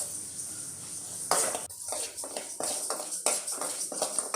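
Ingredients for a coconut sweet are dry roasted in a pan over medium heat, with repeated metallic scrapes and clinks of a utensil stirring, close and fairly quiet.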